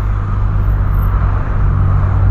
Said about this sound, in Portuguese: Olha o transitão que tá aqui,